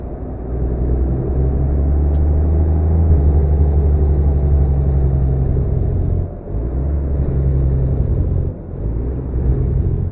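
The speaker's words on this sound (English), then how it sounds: "That is that Cummins Jake brake." A Cummins engine brake on an International 9900i truck in American Truck Simulator gives a loud, steady, low droning rumble that dips briefly twice before resuming.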